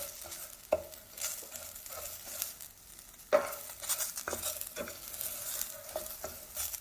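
Chopped onion sizzling in a pan for Mexican rice, a soft continuous fry with occasional scraping strokes of a spoon stirring, close and fairly quiet with no talking.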